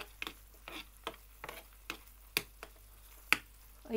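A spoon scrapes and taps in a pan while crushed chilli is stirred into Turkish eggs, giving irregular sharp clicks over a faint sizzle, close and quiet.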